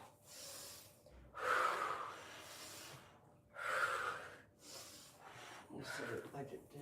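Heavy, deliberate breaths in and out during a yoga exercise, loud and close, with long airy inhales and exhales separated by short pauses.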